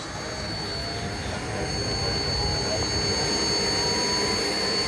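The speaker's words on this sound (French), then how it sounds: "un Hawk des British Aerospace. Le voici à l'atterrissage sur l'aérodrome de Sion" A British Aerospace Hawk jet lands at Sion airfield, producing a loud, steady, broadband jet roar with a faint high whine that holds throughout without a break.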